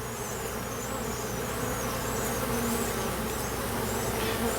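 Honey bees swarm around an open hive during an inspection while black locust trees bloom nearby, giving a dense, steady, close buzzing hum with occasional louder individual bees passing near.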